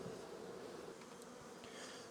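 Honey bees buzzing in and around a Langstroth hive box holding a transferred top bar nuc, a steady close hum with individual bees droning past.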